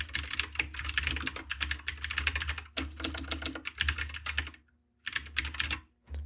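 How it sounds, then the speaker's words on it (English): Fast, steady computer keyboard typing, close and loud, with dense clattering keystrokes, a short pause, then another quick burst of keys. "let's type in my name"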